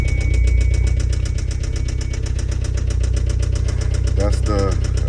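A 1991 Toyota MR2 Turbo idles with a steady, fast rhythmic clatter from the clutch area, loud and close, and a voice speaks briefly near the end.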